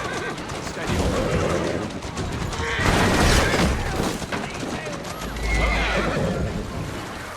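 A horse neighs loudly amid busy sound effects in the video game Assassin's Creed Syndicate, with clip-clopping hooves and a deep boom, dense and layered throughout.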